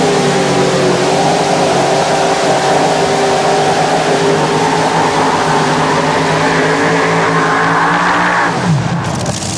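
A modified pulling tractor powered by a Keith Black Hemi engine makes a run at a 1994 NTPA tractor pull in Fort Recovery, Ohio: a loud, sustained, high-revving engine roar with steady droning harmonics, pitch dropping sharply as it shuts down at the end.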